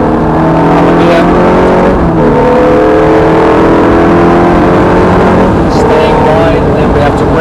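Ferrari F430 engine note on Thruxton Circuit, revving steadily and rising in pitch under light throttle, loud and close inside the car throughout, with an instructor talking over it.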